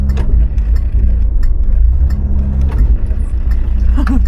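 A manual 1800 B-series Morris Marina Estate engine hums steadily from inside the car while driving on the open road, a constant low drone with faint rattles and clicks.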